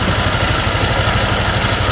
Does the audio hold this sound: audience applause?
no